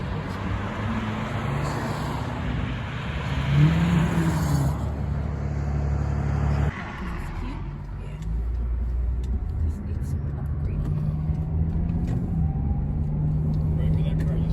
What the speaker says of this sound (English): Right where that car just went.